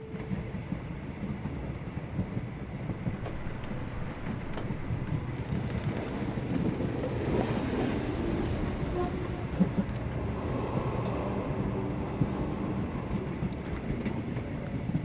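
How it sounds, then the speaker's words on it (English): A train in a Sherlock Holmes video game, a continuous rumbling rail carriage ride with steady low clatter and wind-like noise, no voices. "If we hurry, we can still catch tonight's train."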